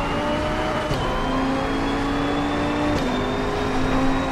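A GT2 race car engine in Assetto Corsa Competizione holds a steady, sustained drone with a couple of gear shifts, heard close and continuous with no talking.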